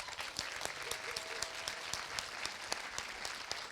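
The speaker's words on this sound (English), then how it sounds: "So a big thank you and a big clap for you lot." An audience at a film Q&A after a screening claps in a steady burst of applause, with individual claps standing out close by.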